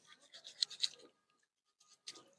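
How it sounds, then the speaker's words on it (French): Freshly harvested turmeric roots being scrubbed with a sponge while washed in vinegar water, heard as short, faint, close rasping rubs in two bursts with a quiet pause between. "Nous allons correctement brosser. Avec de l'éponge."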